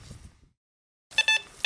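A Teknetics Eurotek Pro metal detector gives a few short, sharp electronic beeps in quick succession after a brief silence, loud and close, with a faint murmur just before.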